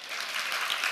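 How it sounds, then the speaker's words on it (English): Congregation in a church clapping together, a dense steady burst of applause filling the room for about a second with no voices over it. "Clap to the Lord if it's made sense."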